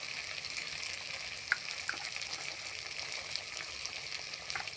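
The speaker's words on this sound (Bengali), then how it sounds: "দিয়ে নাড়াচাড়া করে মশলা ভাজিয়ে নেব বন্ধুরা" Ground spices, sugar, chili powder and cumin powder frying in oil in a pan, a steady close sizzle with a few soft scrapes of stirring.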